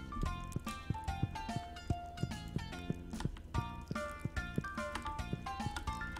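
Hooves clip-clop steadily as a horse is ridden in the Stardew Valley video game, crisp repeated game-sound steps over bright game music.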